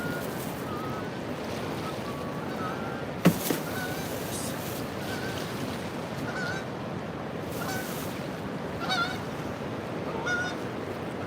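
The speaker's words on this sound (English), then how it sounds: "Hi, little goosey goose." Geese honking in short, intermittent calls, moderately distant, over steady wash of water from a flooded river, with one sharp click partway through.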